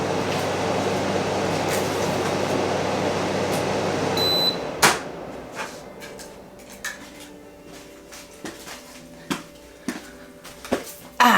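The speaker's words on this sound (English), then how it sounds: "air conditioner, hold on." An air conditioner hums as a steady, broad droning rush for several seconds, then cuts off abruptly, leaving a quiet room with scattered light clicks and taps.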